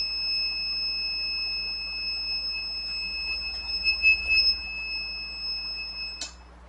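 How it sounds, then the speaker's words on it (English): A power inverter running a LiFePO4 battery bank sounds a low-battery alarm: a steady, piercing high-pitched electronic tone held over a low hum, ending with a short final chirp. "That's the inverter beeping saying the battery's low."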